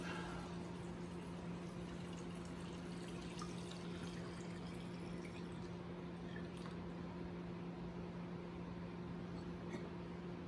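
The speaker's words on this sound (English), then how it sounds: "So just simply pour it." Steady liquid pouring over lemon zest while making limoncello, with a constant watery rush and a low hum beneath, continuous and close throughout.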